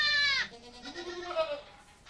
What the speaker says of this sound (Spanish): no son más que cabras corrientes